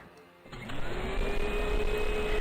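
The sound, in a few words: vacuum cleaner in SpongeBob flash video game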